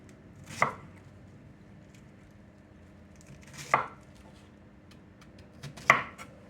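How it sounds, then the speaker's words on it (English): Three sharp knife chops land on a cutting board, spaced a few seconds apart, close and crisp against a quiet background. "let's get to chopping these up"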